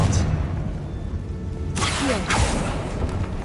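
A Confringo blast spell goes off in a Harry Potter video game, heard as a broad whooshing burst followed by a second swishing surge, over steady game ambience.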